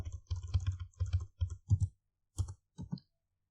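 Computer keyboard keys typed in quick bursts while entering an SQL query in MySQL, with clustered clicks, short pauses, and a few isolated taps near the end, close and clear with no talk.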